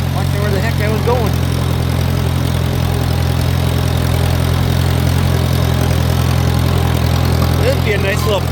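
Farmall 140 tractor with a formerly stuck engine, running steadily with a constant low mechanical drone throughout, fairly loud and close, with faint voices and noises over it.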